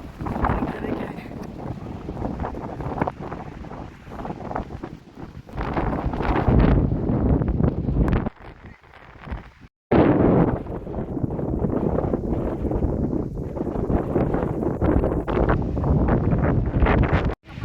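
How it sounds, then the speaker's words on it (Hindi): Strong gusts of mountain-top wind at Green Top in Kalam buffet the microphone in loud, roaring bursts that briefly drop out before surging again, with voices faintly underneath. "यहाँ इतनी तेज़ हवा है ना कि बंदा एक जगह खड़ा ही नहीं हो सकता"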